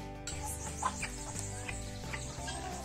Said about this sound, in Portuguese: o peru gru-gru tá ali gritando